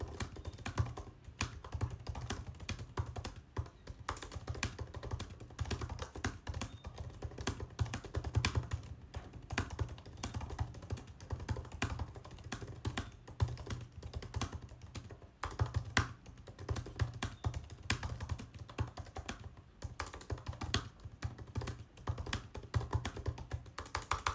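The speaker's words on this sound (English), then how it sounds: "here's me typing with the MacBook keyboard" Continuous fast typing on a MacBook keyboard, with dense, rapid key clicks close to the microphone and no talk, over a low background hum.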